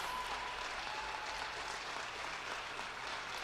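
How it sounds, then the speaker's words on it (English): Faint, steady applause from a crowd at an election count as the winning Labour candidate takes the stage, a continuous patter heard at a distance. "Applause, applause, applause."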